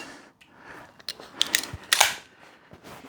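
A staple gun fires several sharp snapping shots into the wooden frame of a recliner seat while fabric is stapled down, irregular close clicks and thuds with softer handling noise in between.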